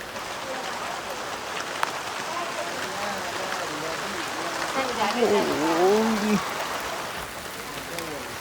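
Steady rain hissing down at a wedding throughout, with someone talking over it partway through.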